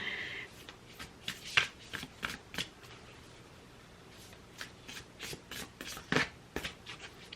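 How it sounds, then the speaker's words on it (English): Faery Blessing oracle cards are shuffled by hand in close, soft bursts of riffling and sliding, with quiet pauses between flurries. "So I'm gonna shuffle, shuffle, shuffle"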